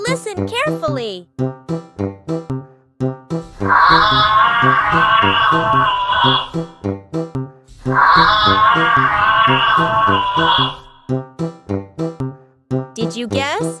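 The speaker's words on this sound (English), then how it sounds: "Yes, it's a giraffe." A giraffe gives several drawn-out, moaning vocal calls with wavering pitch, two long loud stretches framed by shorter choppy bursts, as part of a children's animal sound guessing game.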